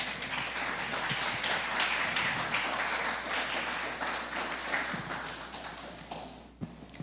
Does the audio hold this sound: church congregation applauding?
yes